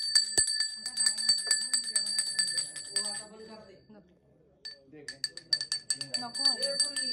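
Small hand bell rings in quick bright strikes at a Shimga festival palkhi procession in Konkan, mixed with lively chatter and voices of the crowd throughout, a brief lull midway before the ringing resumes.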